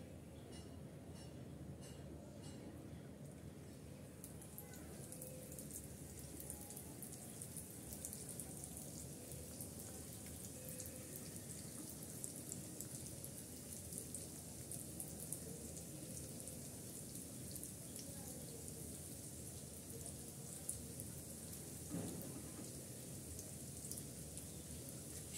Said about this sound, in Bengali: আর একইভাবে আমি সবগুলো ভেজে নিচ্ছি।